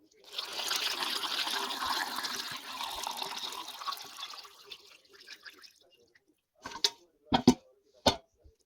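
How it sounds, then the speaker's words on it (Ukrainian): Cooled salt brine is poured over eggplants packed with carrot and garlic for fermenting. A steady splashing stream runs for about five seconds and then tails off, followed by a few sharp knocks and clinks near the end. "Заливка вже прохолола, заливаю."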